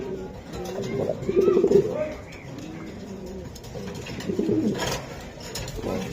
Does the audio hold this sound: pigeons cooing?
yes